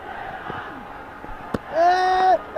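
A cricket crowd at a Nepal versus UAE final chants and cheers in a rising, sustained roar of massed voices, with a sharp thump partway through before the chant swells loudly.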